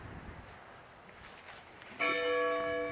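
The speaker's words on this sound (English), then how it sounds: "That's a Paul Revere bell that's ringing" An 800-pound Paul Revere church bell at First Congregational Church in Haverhill, New Hampshire, strikes once after quiet outdoor ambience, its rich ringing tone swelling and sustaining at moderate distance.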